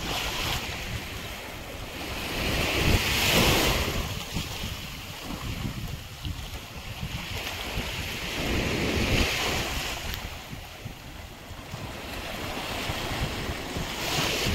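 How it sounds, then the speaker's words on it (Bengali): Sea waves at a private beach on Paros, Greece, rolling surf rising and falling in slow swells with steady wind noise across the microphone, no voices. "ঢেউয়ের আওয়াজটাও আমরা এনজয় করছি"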